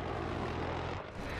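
A jet aircraft roars in the Battlefield 3 video game, a loud, dense, continuous engine rush that briefly dips near the end.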